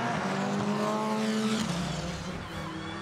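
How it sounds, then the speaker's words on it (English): A Peugeot endurance prototype passes during a FIA WEC race, its engine a loud sustained whine that drops in pitch as it goes by, continuous and close. "Jean-Eric Vergne in the Peugeot that made its debut here 12 months earlier and going well here, taking third place from the triple-stinting Porsche of Michael Christensen"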